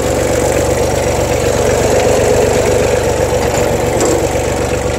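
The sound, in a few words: ABI P50 manure spreader running off tractor PTO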